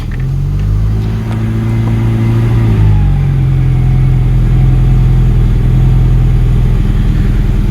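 A Citroen 2CV engine runs noisily with its airbox removed. A loud, close, steady rumbling idle follows a brief rev that drops away at the start.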